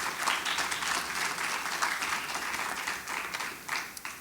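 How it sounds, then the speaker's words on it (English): An audience applauds panelists at a youth workforce summit, giving steady, dense clapping from a crowd that carries on for several seconds before tapering into a few scattered claps, with no talk over it. "give another round of applause to our panelists really quick before we get started"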